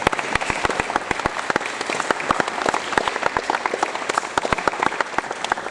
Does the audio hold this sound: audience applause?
yes